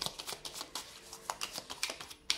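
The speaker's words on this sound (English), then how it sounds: "I will, as I said, shuffle the cards" Tarot cards being shuffled by hand for a card reading, a quick run of soft papery riffles and flicks, close and fairly quiet, with no voice over them.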